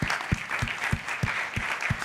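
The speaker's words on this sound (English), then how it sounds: "now is the time to applaud all the presenters" A conference audience at a high-level summit applauds the presenters, a short burst of steady, moderately loud clapping from a hall full of people.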